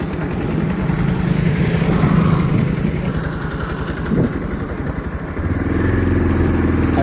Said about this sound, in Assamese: আৰু বেছিটো নাই আৰু বাইকটোৱে আহি আছে।